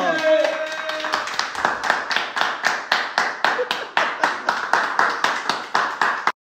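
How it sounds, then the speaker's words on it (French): Steady rhythmic hand clapping, close and fairly loud, a regular run of sharp claps lasting several seconds with voices briefly heard at the start. "Et applaudissez le retour de Ozil là!"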